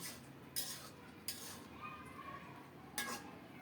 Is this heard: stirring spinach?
yes